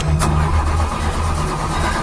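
In a horror film, a car engine cranks and labours without catching, a loud continuous grinding rumble with a sharp click at the start, filling the moment alone with no talking.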